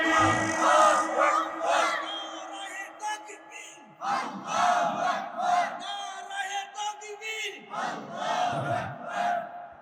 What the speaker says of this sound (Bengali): ওই আল্লাহর নামের তাকবীর দেন, লিল্লাহে তাকবীর